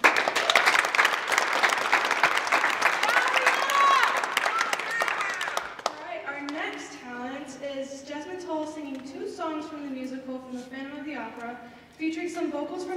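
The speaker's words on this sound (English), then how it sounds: "round of applause for Matrix." Audience applause and cheering at a high school talent show fill the first half loudly, then die down as a voice takes over and speaks at length over a quieter room.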